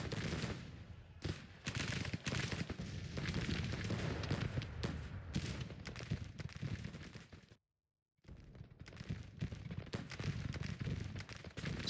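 Rolling musket volleys and cannon fire from a Civil War battle in the strategy game Grand Tactician: The Civil War, a dense continuous crackle of gunfire with heavy booms, briefly cutting to silence before resuming.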